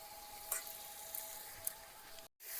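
Drumstick vegetable (sojna) pieces seasoned with turmeric and salt fry in a pan with a steady, close sizzle and a few soft stirring scrapes, no voices.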